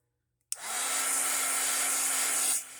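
A hair dryer blows steadily on a dinosaur-journal strap, starting abruptly and roaring loud and continuous with a constant motor hum for about two seconds before cutting off.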